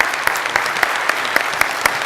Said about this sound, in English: let's give Jonathan and Peter a wonderful round of applause.